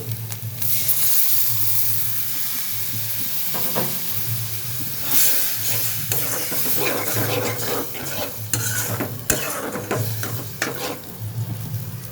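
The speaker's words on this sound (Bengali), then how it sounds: "ভালো করে কষিয়ে নিব মশলাটা" Spice paste of turmeric, chili and coriander frying in a pan with a little water added for a prawn and taro stolon curry: a constant hissing sizzle with frequent scraping stir strokes, close and loud, nobody talking.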